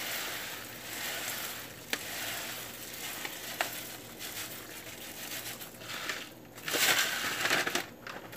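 Split mung beans go into a hot pan, giving a continuous crackling sizzle with rustling and scraping bursts toward the end, heard alone without speech.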